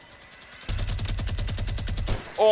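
A Fortnite gun fires a rapid, evenly spaced automatic burst of about fifteen close, punchy shots into wood, then stops abruptly.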